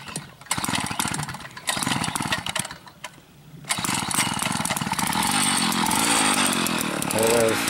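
A chainsaw engine running nearby during carburetor adjustment, a loud buzzing drone that dips briefly twice and then holds steady at a high, even pitch to the end.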